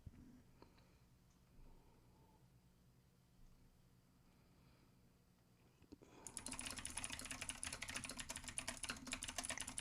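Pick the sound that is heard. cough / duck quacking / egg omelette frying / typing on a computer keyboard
typing on a computer keyboard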